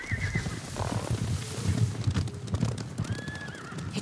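Several horses approach in the video game Ghost of Tsushima, with steady clip-clop hoofbeats over grass and a loud neigh, set against a rumbling outdoor ambience.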